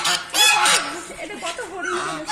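Geese honk in short, wavering nasal calls close by near the water temple at Nabadwip, mixed with people talking.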